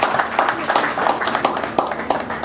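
An audience claps together at an NDDC town hall meeting in Imo State, a short burst of steady, moderately loud applause.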